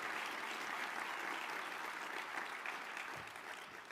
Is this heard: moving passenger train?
no